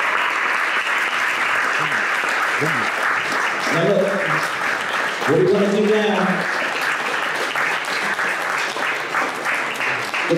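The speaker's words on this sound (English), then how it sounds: "Big round of applause." Sustained applause from an event audience in Baltimore, a dense steady wash of clapping throughout, with a voice speaking over it in the middle.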